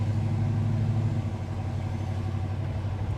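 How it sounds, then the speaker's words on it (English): A 1985 Chevy Monte Carlo G-body idles steadily, its exhaust giving a deep, even low rumble that holds at a constant level throughout, close by and with no voices over it. "it's got a great exhaust tone"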